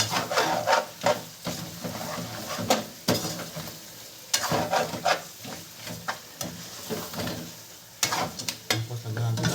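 Menudo ingredients are sautéed in a pan, with a wooden spoon scraping and stirring in irregular strokes over a soft sizzle, close up and moderately loud.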